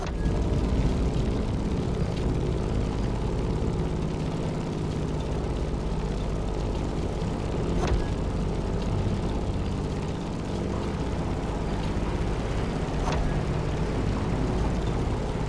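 A propeller plane's engine drones steadily in the video game The Crew Motorfest, a loud, continuous near hum with a rumbling low end and no talk.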